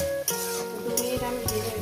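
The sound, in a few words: onion and garlic frying in a pan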